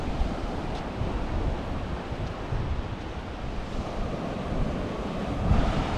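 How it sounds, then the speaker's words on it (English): Surf rolls in at Driftwood Beach on Jekyll Island, coastal Georgia, as a steady low wash of waves mixed with gusty wind buffeting the microphone, with no voices. "Driftwood Beach is the name of this beach right here."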